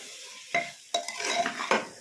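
Soaked chickpeas with salt are sautéed in a pan, with several distinct scraping stirs over a light sizzle, close and brief.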